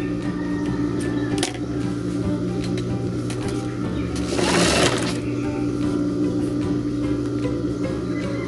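A sewing machine runs steadily while stitching a waistband seam, its motor hum and needle rattle continuous and close throughout, with a brief louder burst partway through.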